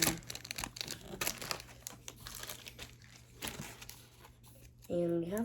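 Clear plastic trading-card sleeve packaging being opened up close, a dense crinkling and tearing that thins out toward the end, under a voice talking.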